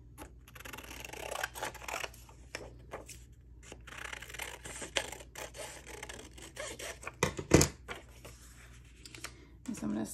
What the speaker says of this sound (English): I gotta cut more of the tape